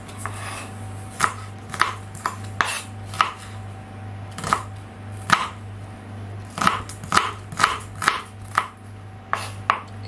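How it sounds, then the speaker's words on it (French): Shallots being diced with a knife on a board, a run of sharp, close chops in uneven bursts over a steady low hum, with no talk. "je vais les couper en petits dés"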